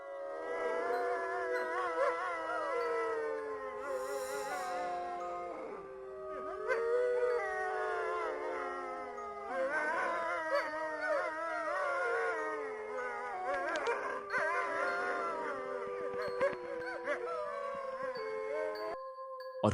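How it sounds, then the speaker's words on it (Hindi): Several dogs howl together in long, wavering, overlapping tones, rising and falling for a sustained stretch with few distinct barks. "अचानक कहीं से कुत्तों की तेज भौंक सुनाई दी।"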